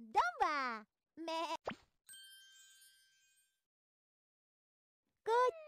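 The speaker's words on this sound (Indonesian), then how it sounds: "Domba. Domba. Me. Me." A cartoon sheep in a children's animal-learning cartoon bleats in several short, wavering calls, with a bright ringing chime in the middle before a final bleat.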